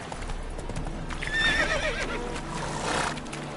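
A horse galloping in The Witcher 3 game, with rapid, close hoofbeats running throughout and a clear neigh rising in the middle.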